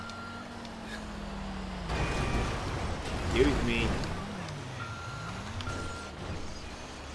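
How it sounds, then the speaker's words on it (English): Garbage truck in a video game driving along with reversing beeps sounding over steady engine noise, under a person talking. "Flying down in a garbage truck."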